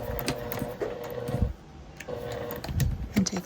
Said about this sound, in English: Do a little back stitch